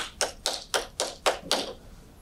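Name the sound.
clapping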